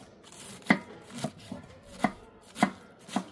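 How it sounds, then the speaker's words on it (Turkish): A knife finely chops tomatoes on a board for stuffed tomato pickle, making six crisp, separate strikes at a steady, unhurried rhythm, close and fairly quiet, with no talk. "Böyle mümkün olduğu kadar bakın şöyle tel tel ince ince doğrayacağız bakın."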